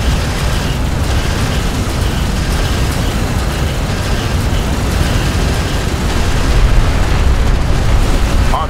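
Battle in the desert strategy game Homeworld: Deserts of Kharak, with armored vehicles taking fire: a loud, dense wall of blasts and rumble with no clear gaps, swelling slightly toward the end.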